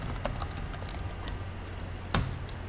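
HTML code being typed on a computer keyboard: scattered, quiet key clicks at an uneven pace with one sharper, louder keystroke near the end, close by in a quiet room.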